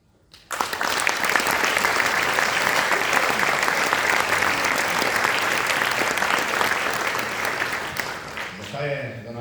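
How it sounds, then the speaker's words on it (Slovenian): Loud, dense applause erupts from the audience at a municipal Slovenian Culture Day ceremony in Velenje, holding steady for several seconds before fading into a voice at the end. "lahko rečem en velik aplavz vsem vam, ki soustvarjate kulturo in podobo kulture našega mesta"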